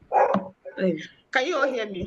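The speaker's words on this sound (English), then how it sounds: "I have a dog here." A dog barks indoors, a few sharp close barks at the start mixed in with a person talking over a call.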